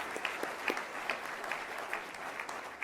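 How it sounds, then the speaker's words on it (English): A crowd applauds at a groundbreaking event, the claps dense and steady but faint and distant, keeping an even level for a few seconds. "So a round of applause for our Sheridan Creative Partners."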